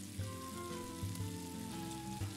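Food sizzling in a frying pan in the video game Octodad: Dadliest Catch, a steady crackling fry with soft sustained game tones underneath.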